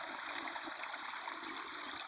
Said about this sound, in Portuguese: Ver a água correndo assim, no meio das matas